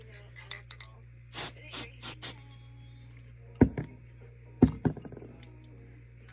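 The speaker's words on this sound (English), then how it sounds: "I'll sandpaper it off." Sandpaper rubbing a plastic horn piece in a few short, evenly spaced strokes, followed by a pair of sharper thuds and scrapes against a steady low hum.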